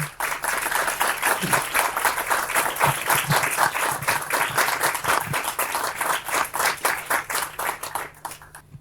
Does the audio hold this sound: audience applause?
yes